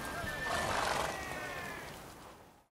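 A horse neighs in The Witcher 3: Wild Hunt, one long, bright whinny that rises then slowly fades out, with a faint background hiss.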